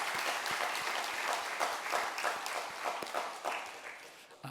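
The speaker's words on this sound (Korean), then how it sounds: "우리 박수로 하나님 앞에 영광 돌리겠습니다." A church congregation at a Sunday Thanksgiving service claps together in a fast, even rhythm, filling the room with sustained applause at a moderate distance.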